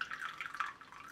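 Tea pouring from new teaware into a cup, a short, soft, bubbling trickle of liquid heard close and quiet, with no voices.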